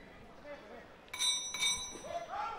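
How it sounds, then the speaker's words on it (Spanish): A boxing ring bell rings out sharply twice in quick succession to start a round at a championship bout, cutting through the crowd murmur and a commentator's voice. "Sonó la campana, segundo round en marcha"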